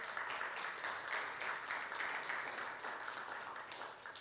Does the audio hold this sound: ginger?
no